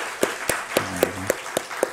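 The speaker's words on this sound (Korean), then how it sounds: "박수 한번 쳤으면 좋겠습니다." Sparse, evenly spaced claps ring out in a church hall, about eight sharp beats in slow rhythm, with a faint voice in the background.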